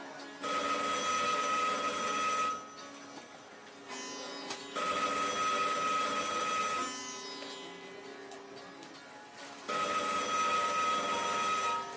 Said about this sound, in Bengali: কর্কশ শব্দে ফোনটা বাজছে